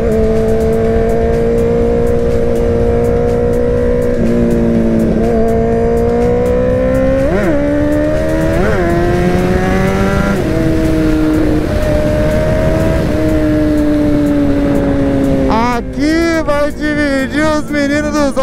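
A motorcycle engine revs hard and continuously while accelerating through curves on a mountain road, its pitch rising and falling with throttle changes and a sharp burst of revving near the end. A voice talks over the engine.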